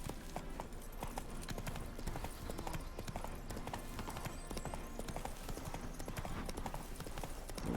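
Horse hooves clip-clop in a quick, steady rhythm throughout while riding in the video game The Witcher 3, a close, even beat of hoofbeats at moderate volume.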